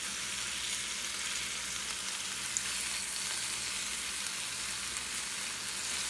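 Marinated beef bulgogi sizzles steadily in a hot pan, a dense, even frying hiss that holds at moderate loudness throughout with no talking.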